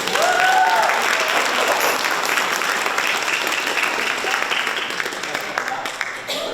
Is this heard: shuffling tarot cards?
no